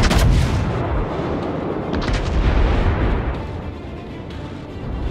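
Ship's cannons firing a full broadside in a naval battle, heavy booming blasts hitting together at the start and then rolling into a long rumbling roar.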